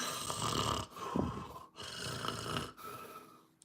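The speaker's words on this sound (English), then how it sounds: "but Pooh just snored" Winnie the Pooh snores loudly and close in an animated Disney film, three rhythmic breaths, each a rattling inhale separated by brief quiet pauses.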